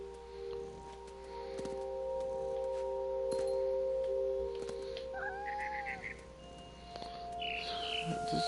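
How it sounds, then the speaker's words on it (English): A barn swallow chirps in a quiet outdoor scene of the video game What Remains of Edith Finch, brief high calls over a steady background hum and ambient tones. "Then I heard chirping outside my window. It was a barn swallow going back to her nest."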